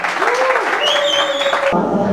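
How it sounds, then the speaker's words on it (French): Applause for performers on stage rolls on under a singing or calling voice with sustained tones, then cuts off abruptly near the end. "qu'on applaudit déjà bien fort"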